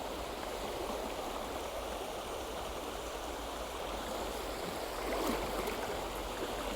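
A fast river stream rushing over rocks and boulders gives a steady, loud, dense wash of flowing water with no pauses, heard alone without any voices.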